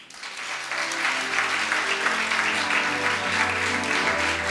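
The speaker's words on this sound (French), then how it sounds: "On embrasse le Père Noël et on l'applaudit s'il vous plaît." Audience at a Christmas variety show applauding steadily and loudly, a dense, sustained clapping that swells after the first second and holds to the end, with no voices on top.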